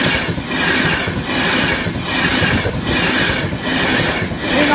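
British Rail Class 390 train rushing past a level crossing, a loud, close, continuous roar with a regular rhythmic pulsing of passing carriages and wheels, no voices.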